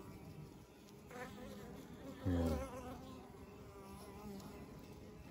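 Guard honeybees buzz steadily at close range around a hive entrance, a constant droning hum with one louder swell as a bee passes near, and a brief spoken word.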